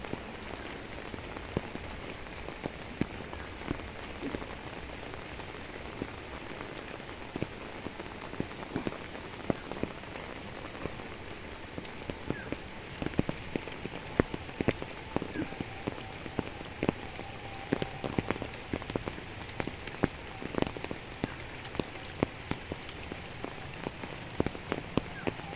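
Rain pours all day in cold winter weather, with close, constant drops pattering on hard surfaces and occasional sharper splashes, and no talk over it.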